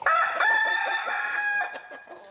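Chickens on a farm, with a rooster crowing loudly and close while hens cluck around it, the crow holding steady before trailing off into scattered clucks.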